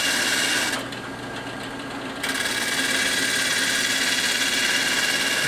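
A coarse-grit sanding drum on a drill press grinds against a stave drum shell, a loud steady motor whir with abrasive hiss that dips briefly and then resumes at full strength.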